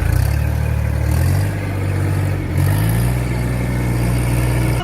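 A toy tractor gives off a steady, droning engine noise, a loud, close mechanical hum whose pitch shifts slightly as if revving and idling, with no talk over it.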